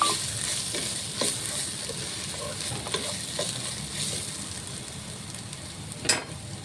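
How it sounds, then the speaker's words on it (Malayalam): Chili powder and spices for a crab roast fry in a pan over low heat, giving a soft continuous sizzle broken by scraping stirs and an occasional louder clink. "ഇതെല്ലാം ചെറിയ തീയിൽ വേണം നമുക്ക് ഇളക്കി കൊടുത്ത് ഫ്രൈ ആക്കി എടുക്കാൻ."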